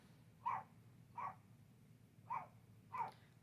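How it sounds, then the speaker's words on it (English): A dog barks outside, four evenly spaced, moderately distant barks about a second apart over a quiet low background hum. "My dog's out there barking,"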